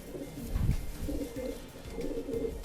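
Racing pigeons coo in soft, repeated low murmurs at close range, with a louder burst early on and steady cooing continuing throughout.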